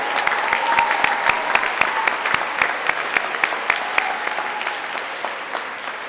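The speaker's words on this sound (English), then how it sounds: "Could you maybe give a round of applause to all of the veterans who are with us today" A crowd at an Indiana Statehood Day bicentennial ceremony applauds veterans, with steady, dense clapping and sharp individual claps standing out, holding strong before tapering slightly.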